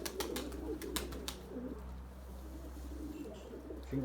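Pet pigeons coo softly near the microphone after drinking water, several low throaty calls over a steady low hum, with a few sharp clicks or taps at the start and a fresh coo near the end.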